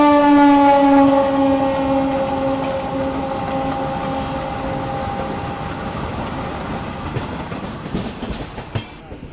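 ALCO diesel locomotive shunting a parcel van on the line near Kanpur, a loud horn-like tonal blare at the start fading into a steady rumble of rolling rail noise with a few sharp clanks near the end.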